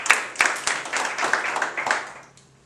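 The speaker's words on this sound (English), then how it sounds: "Big round of applause" An audience at a Toastmasters evaluation contest applauds, a dense burst of many hands clapping close by that holds steady for a couple of seconds before fading away.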